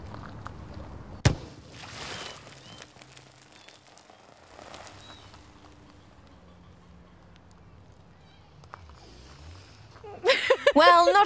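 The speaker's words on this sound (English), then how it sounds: "not exactly an earth-shattering explosion" A small test explosion set off near a camera, an MP3 player and a phone gives a single sharp, muted pop early on, followed by low, quiet rumbling and scattered noise.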